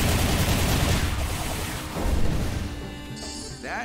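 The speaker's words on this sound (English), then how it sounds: "That is some heavy firepower." Heavy gunfire and crashing blasts fill a Sonic Frontiers battle, a dense, loud barrage that thins slightly midway, then swells again before fading into lighter electronic game effects.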